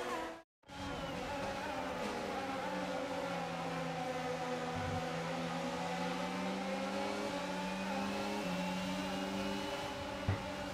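F1 22 race cars idling and rolling through the formation lap: a dense, steady drone of engine tones held at a moderate level, with small pitch shifts and no speech.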